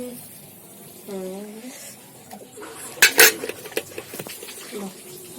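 A metal pot lid clatters and clinks sharply as fried brinjal pieces are lifted onto it in a home kitchen, a burst of clanks following a stretch of conversation.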